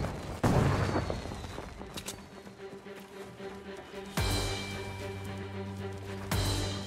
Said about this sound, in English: they're shooting grenades at us.